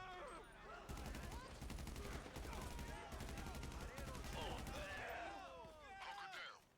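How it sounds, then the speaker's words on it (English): Bursts of automatic gunfire in GTA Online, loud, rapid and sustained for several seconds with brief gaps, then trailing off near the end. "How did all of those bullets miss your head?"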